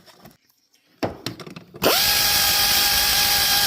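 Power tool driving cover screws during an alternator install on a 2004 Ford Expedition: a few short taps and whirs, then a loud steady whine that runs to the end.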